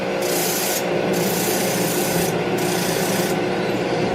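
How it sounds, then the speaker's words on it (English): Wood is sanded by hand with 150 grit sandpaper, a loud continuous rasping rub that pulses in long back-and-forth strokes, heard close and alone. "So I hit that with the 150 grit."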